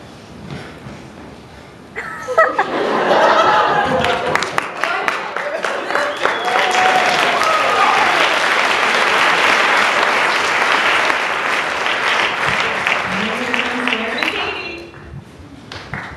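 Sustained audience applause breaks out at a Friends Show sandcastle-building stage event, rising after a quiet start, holding a loud dense wash of clapping, then fading near the end, with voices and some whistling mixed in.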